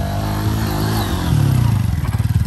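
A motorcycle engine revs up hard during an uphill start on a hill, the low throbbing growl climbing in pitch and pulsing strongly toward the end, loud and close with no talking.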